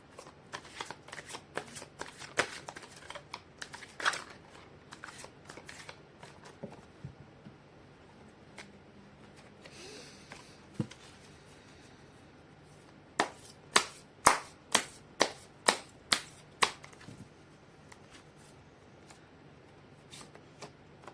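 Oracle cards being shuffled during a tarot reading: a steady stream of soft papery riffles and flicks, then a run of about seven sharp, evenly spaced card slaps, close and alone with no talking.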